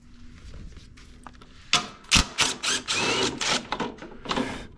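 A side panel is pulled off a John Deere S140 riding mower, giving a run of close plastic-and-metal clunks, scrapes and rattles in uneven bursts after a quiet start.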